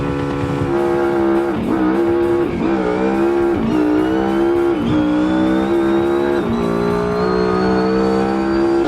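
An SBR4 drag car in BeamNG blasts down the strip, its engine screaming loud and close, climbing in pitch through several sharp gear changes, alone with no voices.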